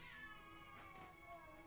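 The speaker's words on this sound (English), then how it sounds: "Sorry. That was my cat." A pet cat meowing close by, one drawn-out, harmonic-rich cry that wavers in pitch, faint and alone in a quiet room.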